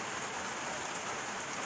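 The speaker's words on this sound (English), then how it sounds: "It's raining." Steady rain falling outside, a dense continuous hiss of drops on surfaces with no talking, even and fairly loud throughout.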